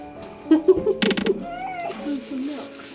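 A cat meows several times in short, close, mewing calls, with voices talking over and around it.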